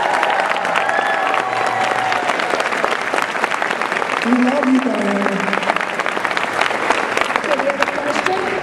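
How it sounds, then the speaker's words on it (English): Panel audience at Phoenix Comicon 2013 applauding during a Star Trek Continues session, sustained clapping with cheers and a shouted voice over it, fairly loud and dense throughout. "Please give her a big round of applause."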